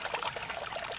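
Water and fish are poured onto a sieve beside a muddy reservoir, giving a brief, close, splashing trickle and pour that lasts about a second, with no voices.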